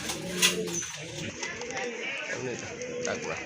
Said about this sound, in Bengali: আরেক জোড়া লাল রাজগোল্লা কবুতর আছে